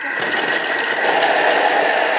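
A food processor quickly chops vegetables in its bowl, its motor giving off an even, loud whir that holds steady from start to finish.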